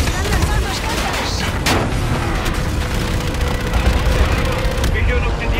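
Gunfire and missile blasts in Call of Duty: Infinite Warfare, a dense barrage of booms and shots with a sharp burst partway through, loud, under radio-style talk in Spanish.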